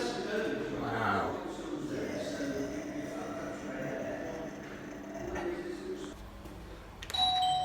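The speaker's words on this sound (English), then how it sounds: "Working doorbell, that's nice." A doorbell chimes with a bright ding-dong tone over a noisy indoor room, brief and clear near the end.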